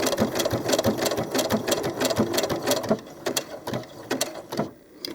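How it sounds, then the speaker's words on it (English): A sewing machine stitches doll clothes in fast, even bursts of needle clatter, running steadily for about three seconds before slowing into a few short, separate runs near the end, close and with no voices. "I want to sew backwards a little, just a few stitches"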